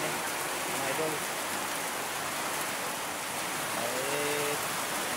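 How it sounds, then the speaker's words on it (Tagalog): Heavy, storm-like rain pours down steadily and loudly on surfaces nearby, with faint voices briefly under the downpour. "Malakas talaga ng ulan dito, parang bagyo na."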